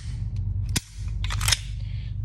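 Sharp mechanical clicks from an empty Sig M17 or Beretta M9A3 handgun being dry-fired with no magazine round or chambered round: one crisp snap near the start and a second, lighter click later, both close over a steady low room hum.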